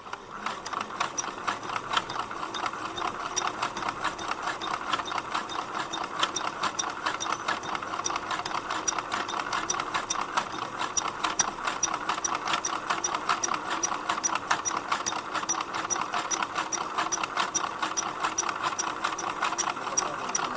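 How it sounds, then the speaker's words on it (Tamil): Sewing machine stitching fabric, a fast steady mechanical chatter of needle strokes running continuously and evenly, close and fairly loud, with no talk over it. "இப்போ நம்ம தச்சு பார்ப்போம்."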